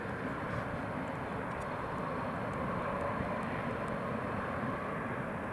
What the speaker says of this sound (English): it sounds like they've got the engine started